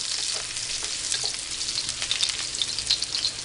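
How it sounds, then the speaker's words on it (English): Garlic and green chilies sauté in a pan, giving a bright, steady sizzle with a crackling spatter throughout and faint stirring, alone without speech. "You saute your garlic and green chilies."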